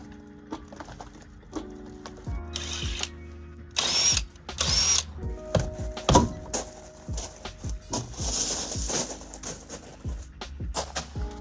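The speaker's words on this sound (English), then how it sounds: "Step 1, let's get the wheel off." Rapid ratchet clicks and short bursts of a power tool alternate with metallic clanks and knocks as a car wheel is removed, close up, with no talking.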